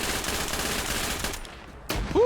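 Dense machine gun fire in Arma 3 rattles in continuous rapid bursts for over a second, drops to quieter scattered shots, then one more loud burst near the end.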